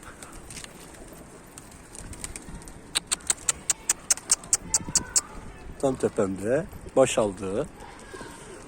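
Pigeons coo in a few rounded, warbling calls near the end, after a quick run of sharp flapping bursts of pigeons flying, with someone talking over them.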